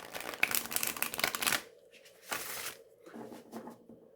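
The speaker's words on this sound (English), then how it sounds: "But they do riffle shuffle wonderfully" Somnia Tarot cards riffle shuffled close up, two bursts of crisp fluttering card riffles followed by softer taps and slides as the deck is squared, fairly quiet.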